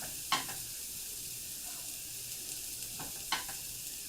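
Eggs for a Denver omelet cooking in a pan, with a faint steady sizzle and two brief scraping stirs of a utensil against the pan, spaced a few seconds apart, close up.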